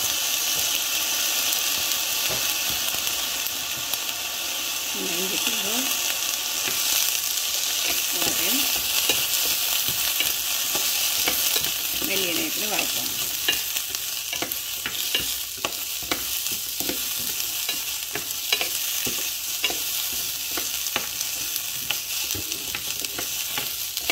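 Onion, garlic and curry leaves frying in a pan for a coriander sambal, a continuous dense sizzle with occasional stirring scrapes and taps, steady and close throughout.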